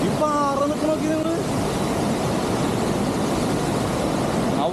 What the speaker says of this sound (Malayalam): അവിടെ ഒരു വെള്ളച്ചാട്ടം